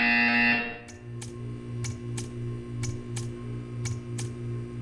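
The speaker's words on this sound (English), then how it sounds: "You will hear a buzzer. When you hear the buzzer, stare at the art." A loud, harsh buzzer in the video game Portal 2 blares for under a second, then cuts off, leaving a low steady hum with evenly spaced clicks.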